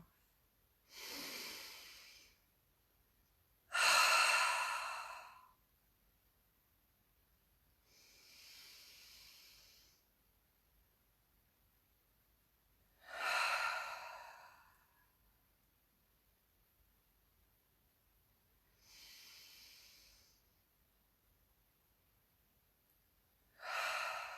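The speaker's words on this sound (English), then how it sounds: "Let's do some nice big clearing breaths in through the nose, out through the mouth." Deep breathing in through the nose and out through the mouth during a relaxation exercise: five or six slow, breathy inhale-exhale bursts spaced several seconds apart, close and fairly soft, with quiet gaps between.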